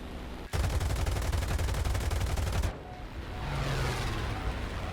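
A sustained burst of rapid aircraft machine gun fire during a dogfight in War Thunder, with a Bf 109 F-4 fighter attacking a P-63. The burst runs loud for about two seconds, then cuts off abruptly, leaving engine and wind noise.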